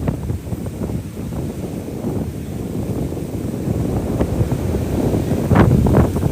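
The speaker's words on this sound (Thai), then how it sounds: "มีแต่เสียงลมเลยตอนนี้" Sea wind buffets the microphone at Bangsaen beach, a loud continuous rumble with gusts that swell and peak near the end, no voices over it.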